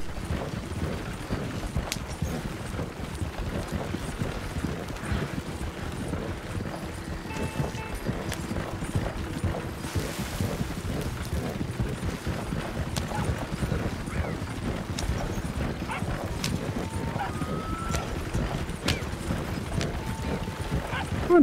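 Horses pulling a wagon in the Red Dead video game, with steady rhythmic clip-clop hoofbeats continuing throughout over creaking wagon mechanisms, moderately loud.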